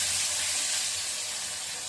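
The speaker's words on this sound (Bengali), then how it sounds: "এবার সবগুলো মাছ একসাথে ঢেলে দিচ্ছি।" Fish poured all together into a hot pan, giving a steady broad sizzle and hiss that stays even and close throughout.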